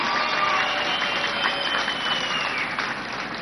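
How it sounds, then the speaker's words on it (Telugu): Sustained audience applause at a political gathering honouring Nitin Gadkari, a dense steady wash of many hands clapping at fairly even loudness throughout, tapering slightly toward the end, with no talking over it. "మీరందరూ గట్టిగా చప్పట్లు కొట్టుకొట్టే అభినందించాల్సిన అవసరం ఉంది"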